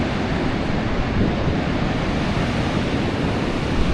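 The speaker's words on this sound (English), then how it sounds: "The ocean is so rough." Heavy surf of a rough ocean on a foggy coast roars continuously, a broad wash of crashing waves mixed with wind buffeting the microphone, loud and unbroken.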